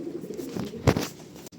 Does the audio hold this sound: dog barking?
no